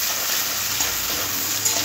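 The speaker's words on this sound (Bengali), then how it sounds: "হালকা করে ভেজে নেব।" Red, green and yellow capsicum lightly frying and being stirred in a pan for chili chicken, giving a steady close sizzle with faint scraping throughout, no voices.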